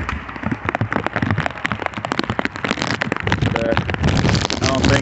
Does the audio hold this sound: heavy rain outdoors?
yes